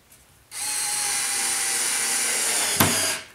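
Ryobi TEK4 cordless screwdriver driving a screw through cedar picket boards, a steady loud motor whine for about three seconds with a sharp click near the end before it stops.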